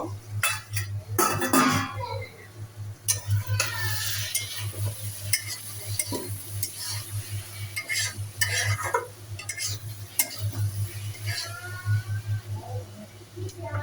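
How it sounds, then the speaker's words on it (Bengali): Prawns and potatoes in a bhuna sizzle and fry in a pan while being stirred, with repeated close scraping and clinking of a utensil against the pan over a steady low hum. "ঢাকনাটা আমি এখন খুলে নেব, খুলে নাড়াচাড়া করে নেব।"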